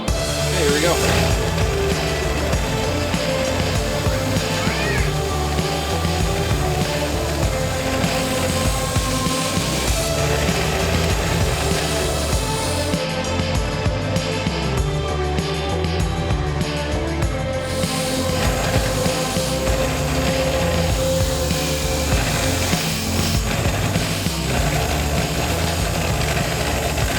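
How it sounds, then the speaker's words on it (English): A wire brush scrubs rust from old screws and washers off a 1988 Jeep Cherokee XJ, making a loud, continuous, rough grinding whir that runs steadily throughout, with a voice speaking at times. "you'd be amazed what a little bit of wire brush can do to these guys"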